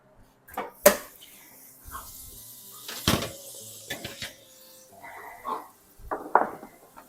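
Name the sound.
oven tray of fries being pulled out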